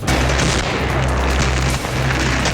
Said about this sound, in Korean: 제보자 차량 앞으로 전신주가 쓰러지며 폭발이 일어난 건데요.